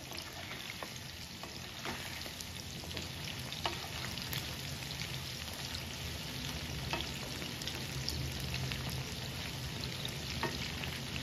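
Chicken pakora deep-fries in hot oil with a steady, dense crackling sizzle, close and continuous, with scattered sharper pops and no voices.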